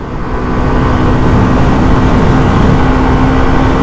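A Hero Xtreme 125R motorcycle pulls hard in fourth gear, its engine a loud, steady, close droning roar with a constant buzzing tone and wind rush throughout.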